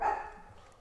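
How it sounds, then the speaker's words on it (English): A dog gives a single short, sharp bark indoors, close and fairly loud, and the sound fades quickly into quiet. "Now the diaper dog wants out."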